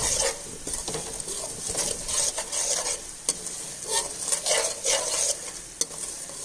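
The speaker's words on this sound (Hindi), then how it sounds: "हमारा ऑयल गरम हो चुका है। अब हम इसमें सूजी डालेंगे।" Semolina stirred in hot oil for halwa, heard as steady scraping of a spoon against the pan over a soft, continuous sizzle, with clicks at irregular moments.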